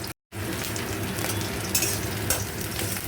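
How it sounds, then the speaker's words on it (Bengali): Onions and green chilies fry in a pan with five-spice seeds, giving a close, steady sizzle. Light scraping and stirring sounds occur throughout, after a brief dropout at the very start. "পেঁয়াজ, কাঁচা লঙ্কা, আর এদিকে ভাজা ভাজা করবো"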